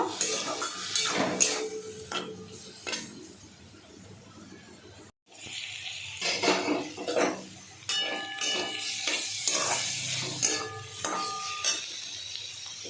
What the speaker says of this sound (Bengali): এবার বাটা মশলাটা দেব, জিরে, লঙ্কা আর আদা এ দিয়ে ভালো করে কষে নেব।